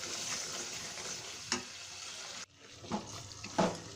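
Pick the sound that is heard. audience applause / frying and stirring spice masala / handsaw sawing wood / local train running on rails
frying and stirring spice masala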